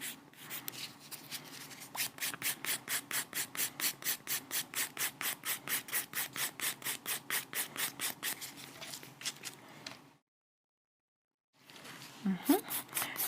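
A nail file rasps rapidly back and forth while shaping acrylic nails, a steady close rhythmic scratching for about ten seconds, then a short silence and more filing with a voice briefly heard.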